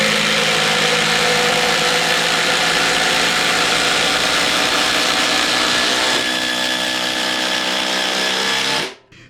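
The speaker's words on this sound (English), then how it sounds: "Let's go ahead and put in the 8-inch timber lock again." A Ryobi impact driver drives an 8-inch timber lock screw in one continuous, loud, close hammering whir that holds steady for about nine seconds. The motor pitch shifts partway through, then the sound cuts off abruptly.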